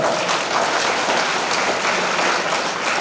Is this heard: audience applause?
yes